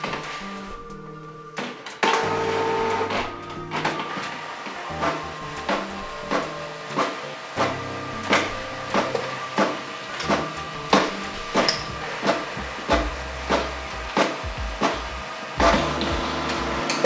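A Canon PIXMA inkjet printer scans documents close by with a steady mechanical hum and a regular series of clicks and thumps, roughly one every second, with a deeper motor shift partway through.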